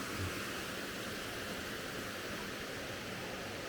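Steady broadband rush of a flowing creek along the Fall Creek Falls trail, continuous and even with no breaks, close by and alone without voices.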